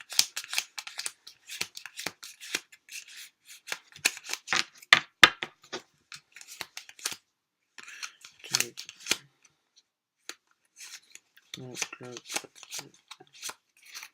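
A deck of playing cards is shuffled by hand in quick bursts of crisp riffling and snapping, separated by short pauses, with someone speaking briefly partway through.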